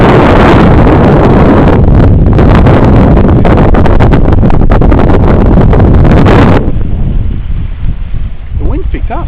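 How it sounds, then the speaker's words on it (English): Strong wind buffeting the microphone on a harbour walk at Bradleys Head, Mosman, Sydney: a loud, continuous roaring rumble that drops off abruptly near the end, leaving quieter background noise. "The wind picked up."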